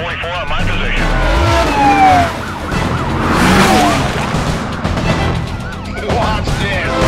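Police siren from the street-racing game Need For Speed Carbon, wailing and sweeping up and down loudly alongside roaring car engines and a passing vehicle, with radio-style voices talking over it.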